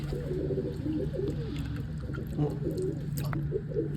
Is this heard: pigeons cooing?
yes